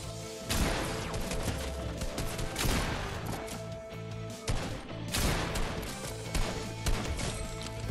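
Rapid bursts of Fortnite gunfire with sharp cracks and impacts, layered over a steady background soundtrack, fairly loud and continuous.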